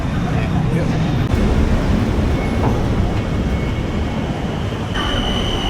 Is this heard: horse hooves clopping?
no